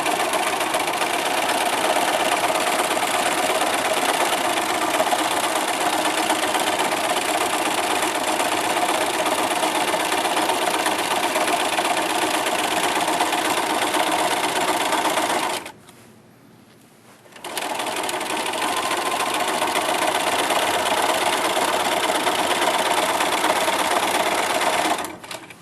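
Sewing machine stitching fabric for a body pillow runs in a loud, steady, close whir, halts briefly for a pivot with the needle down, then resumes the same continuous drone.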